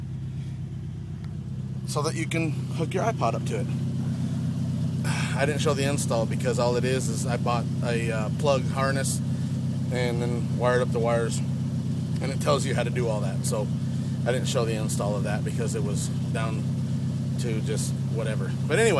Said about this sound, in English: That's the sound of my truck.